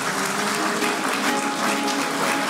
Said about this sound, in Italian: facciamogli ancora un bel applauso